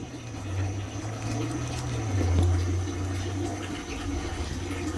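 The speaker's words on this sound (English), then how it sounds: "water this a little bit." Water pours steadily onto the soil of a freshly potted pothos cutting, a continuous close gurgling wash with a low rumble that holds for several seconds without talk.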